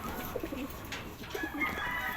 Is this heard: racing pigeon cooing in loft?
yes